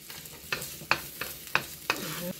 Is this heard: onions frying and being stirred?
yes